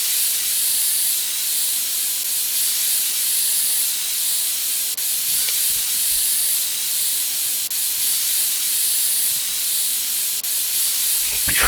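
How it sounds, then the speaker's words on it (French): Compressed air from a spray can in the game PC Building Simulator gives a continuous, steady hiss that fills the whole stretch, with only faint clicks underneath. "On va prendre la bombe. Installer air comprimé."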